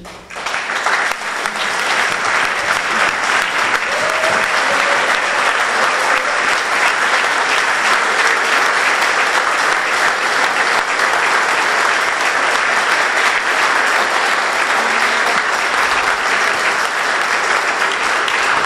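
A church congregation applauding and acclaiming the Lord at a Sunday service, with loud, dense, sustained clapping filling the space from start to finish.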